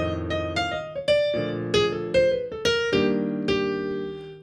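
Solo jazz piano improvising over a jazz standard, with bebop approach notes leading into chord tones. Clear, close single-note lines ring over struck chords in an even, swinging rhythm for a few seconds, with no talking.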